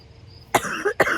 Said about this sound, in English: Residual cough.